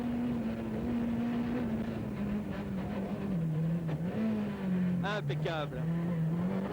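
A driver's Citroën Saxo Kit Car drives at speed in the 1998 Rallye de la Famenne, a steady high engine drone heard from inside the car with brief shifts in pitch, while a voice speaks over it.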